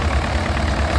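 A petrol paraffin tractor engine idles at a steam rally, a steady low rumble heard up close with no talk over it.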